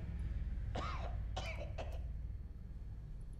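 A person coughs and clears the throat in three harsh bursts close by, then quiet low background noise follows.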